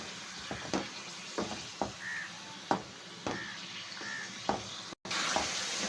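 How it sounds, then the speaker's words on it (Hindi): Mutton frying in oil in a kadai gives a steady sizzle, with repeated sharp scrapes and clinks of a spoon stirring at irregular intervals and a brief dropout near the end. "आपने कम से कम इसको 10 मिनट इसमें फ्राई करना है तेल में।"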